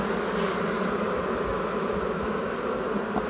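Honey bees swarm and buzz loudly and continuously around an open hive during a comb extraction, a dense, close droning hum with no pauses.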